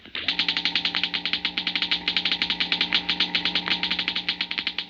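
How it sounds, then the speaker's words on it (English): A model atom smasher crackles in rapid, even bursts over a steady low electrical hum, a dense close buzzing sputter that runs continuously with no talk. "The crackling comes from a model atom smasher"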